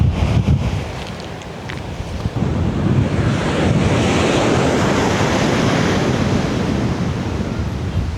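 Ocean surf rolling onto the beach at Marant Bay, St Thomas, a steady loud wash of breaking waves heavily buffeted by wind rumble on the microphone, with no voices over it.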